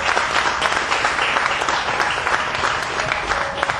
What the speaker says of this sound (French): On peut commencer déjà à faire un petit tonnerre d'applaudissements pour cette catégorie de Covid